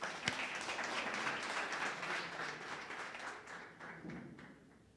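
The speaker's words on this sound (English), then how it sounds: "A round of applause for her, please." Audience applause for a speaker about to give a vote of thanks at a university book-of-the-month event, a sustained round of clapping with one sharp clap near the start, holding steady and then thinning and fading toward the end.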